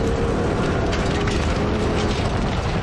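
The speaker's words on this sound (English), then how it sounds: "Blower and V8 noises sound so sick." A supercharged V8 engine rumbles in a dense, steady roar with blower whine layered through it, loud and continuous for a few seconds without any voices.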